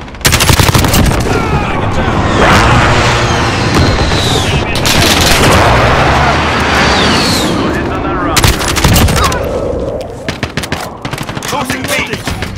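In snowy Call of Duty: Modern Warfare multiplayer, loud rapid machine-gun fire and heavy airstrike blasts pound continuously up close, dense and chaotic, with scattered voices under the din.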